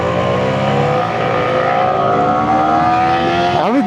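A Yamaha R15 V3 and a Suzuki Gixxer SF 150 accelerate hard side by side in a drag race on a highway, with loud sustained engine roar and rising revs that climb steadily, then a shift near the end.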